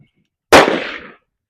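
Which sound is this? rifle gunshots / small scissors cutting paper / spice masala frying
rifle gunshots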